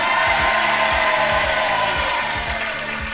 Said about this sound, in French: Applaudissez Anne-Soline et Laurent